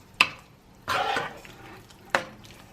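Soft scraping and clinking of a utensil stirring Parmesan cheese into a shrimp pasta sauce in a pan, three brief close strokes with a faint sizzle between them.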